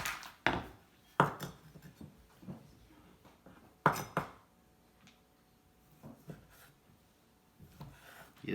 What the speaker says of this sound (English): You just cut them up in chunks.